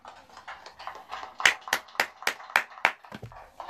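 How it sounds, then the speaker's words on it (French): Scattered clapping from a small crowd at a press conference, breaking into a run of sharp, loud claps spaced about a beat apart, then tapering off. "On applaudit pour le président"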